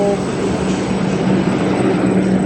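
Loud, steady rumble of a Kolkata Metro train running underground, a constant roar with a thin high whine layered on top.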